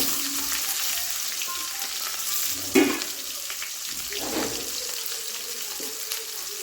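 Onions and curry leaves sizzling in hot oil in a pan for idli kurma, a continuous crackling hiss with a brief stir or clatter partway through, close and fairly quiet, without talk.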